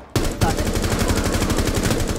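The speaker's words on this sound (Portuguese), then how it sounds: "Não entendi de onde veio esse tiro." Rapid automatic gunfire from the video game Rainbow Six Siege, a loud, continuous burst of closely spaced shots that starts abruptly and runs for about two seconds.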